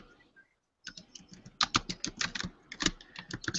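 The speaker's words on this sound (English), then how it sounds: "Just type something in there." Rapid keystrokes on a computer keyboard while someone enters text during a video-editing session, starting after a brief near-silent pause and running as an uneven, close flurry of clicks to the end.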